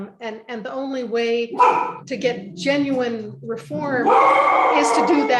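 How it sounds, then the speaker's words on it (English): Several dogs bark and yip in the background under a person speaking continuously, with the barks rising more noticeably toward the end. "You can hear my dogs barking in the background."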